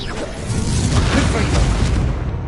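An Incendio fire spell cast in Hogwarts Legacy gameplay, a loud whooshing, booming burst of flame that swells and roars for a couple of seconds.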